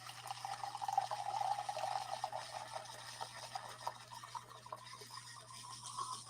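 Bordeaux red wine poured through a small aerator, a steady faint trickle and gurgle of liquid for several seconds with a low hum underneath.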